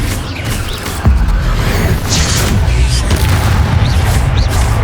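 Confringo fire-spell explosions in Hogwarts Legacy, heavy booming blasts over a dense, continuous roar of game combat, with a sharp impact near the start and steady rumbling bursts throughout.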